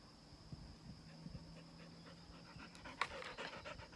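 A beagle pants softly and rhythmically nearby in a quiet room, with faint small movements and a brief sharp sound near the end.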